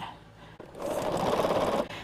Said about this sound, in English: hearing that steady hum of the sewing machine